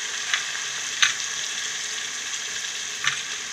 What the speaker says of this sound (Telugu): ఇందులో కొంచెం సాల్ట్ వేసుకున్నామండి వేగంగా ఉల్లిపాయలు వేగితే కదా.